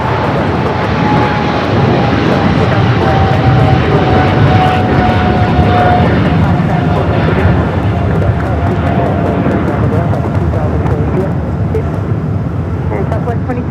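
A fixed-wing airliner lands at Los Angeles LAX, its engines a loud, steady close roar with a faint whining tone, while radio chatter between controller and pilots runs underneath.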